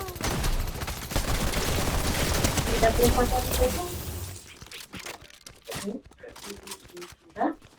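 Rapid bursts of gunfire crackle loudly and continuously in Fortnite for the first half, then give way to scattered sharp shots and cracks mixed with voices talking.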